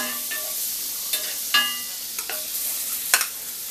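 Mushrooms and onions sauteing in melted butter in a pan, a steady soft sizzle broken by a few scraping stirs of a utensil, close and moderately loud with no talking.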